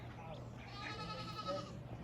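Goat bleating at a goat farm, heard as a faint, drawn-out call beneath steady background noise and nearby talk.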